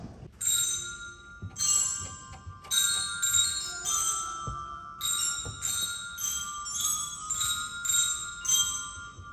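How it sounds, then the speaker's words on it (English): A middle school percussion section strikes orchestra bells with mallets, playing bright ringing notes in short phrases with pauses between them, and the tones sustain and overlap clearly, with no talking. "Our percussionists began this year learning the bells, playing the same parts as everyone else."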